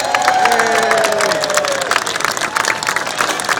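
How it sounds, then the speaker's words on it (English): A crowd claps and cheers at a fire department vehicle extrication demonstration, loud and dense from start to end, with shouts and a few children's voices in the mix. "Let's give him a round of applause."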